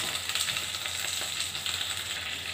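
Mango pieces go into hot oil spiced with panch phoron for a pickle, giving a dense, steady sizzle that stays close and even for the whole moment with no talk.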